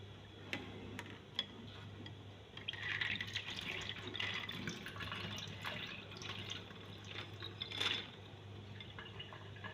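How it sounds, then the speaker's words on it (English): Water drained from soaked okra seeds through a filter, a faint trickle with scattered drips and small splashes that swell briefly near the middle and again toward the end, with no talking. "So I'm going to filter the water from the okra seed."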